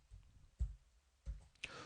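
Quiet keyboard clicks from the Ctrl+Shift+/ comment shortcut on an AZERTY keyboard, three soft, sparse taps spread over about two seconds with no talking.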